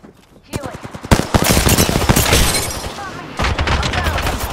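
Rapid bursts of automatic gunfire from an Apex Legends match, loud and close, firing in several sustained volleys with short gaps between them.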